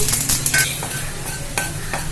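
Brinjal and masala sauté in hot oil for a biryani gravy, with a continuous close sizzle broken by several quick stirring scrapes and light utensil clicks, and no talking.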